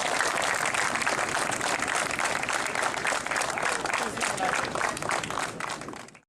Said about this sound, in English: Hey guys, can you give a round of applause? A big round of applause.